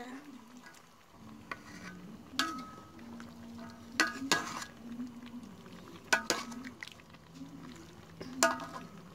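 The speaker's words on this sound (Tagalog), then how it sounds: "So, haluin na lang natin siya." A spoon stirs igado cooking in a pan, with scattered scraping knocks and clinks over a soft sizzle, the strokes coming at irregular intervals close by.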